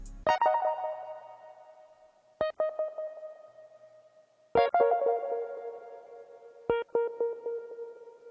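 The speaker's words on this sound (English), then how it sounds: "Then for the second sound I have this Beat Sinner key, and it's from the Beat Sinner Sync 1 Shot kit." Synth key one-shot from the Beat Sinner Sync kit, struck four times with gaps, each a bright plucky attack that rings out and slowly decays, clean and alone.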